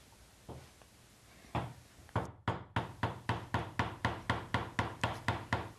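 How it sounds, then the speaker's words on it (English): A woodworker squares up mortises by hand with a chisel on a classic workbench build. The tapping starts with a few scattered knocks, then settles into a quick, even run of sharp, close strikes. "square up the mortises by hand using a chisel"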